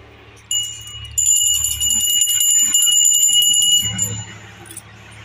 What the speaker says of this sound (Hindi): घंटी बजा दियो घंटी बजा